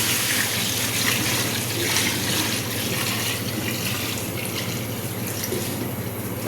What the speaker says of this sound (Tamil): தண்ணி ஊற்றுங்கள்.